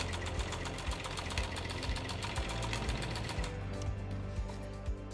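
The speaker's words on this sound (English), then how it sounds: "You're just tacking this thing down, so I'm going to just use several back and forth stitches." Sewing machine running continuously with a rapid mechanical chatter, making back-and-forth tacking stitches on a buckle strap for a tree-saddle recliner, the motor hum steady and close with periodic thumps.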